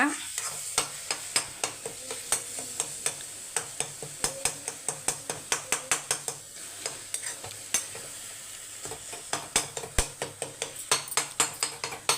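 Egg frying in a pan for a Tamil home-cooked lunch is stirred and chopped apart with a spatula, giving steady repeated scraping taps against the pan over a continuous sizzle, close and clear with no talking.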